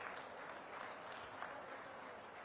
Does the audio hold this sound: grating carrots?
no